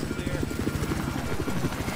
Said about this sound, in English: Attack heli's up, it's heading towards C.